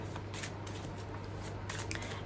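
Tarot-style oracle cards shuffled and drawn by hand for a weekly spiritual reading, a soft continuous riffling with light card slaps, close and quiet over a low steady hum.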